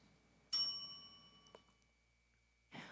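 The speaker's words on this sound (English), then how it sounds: "When the remaining time reaches 30 seconds, the bell rings once." A single bell strike marks thirty seconds remaining at a university English speech contest, sharp and ringing with a long decaying tone, followed by a faint second tap and a brief rustle at the end.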